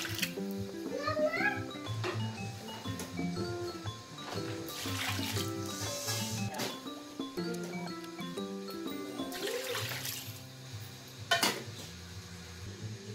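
Water is poured into a bowl of loaf bread dough ingredients (flour, powdered milk, bread improver, vanilla, shortening), giving a splashing, trickling pour amid clinks of utensils and dishes, heard close up with a person talking.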